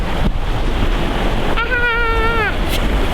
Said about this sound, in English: It's a windy day for doing things.